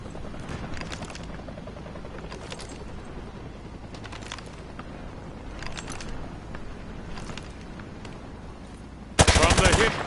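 Gunfire fired from the hip in a video game comes in short automatic bursts spaced a couple of seconds apart over a steady background rumble, ending in a louder sustained burst.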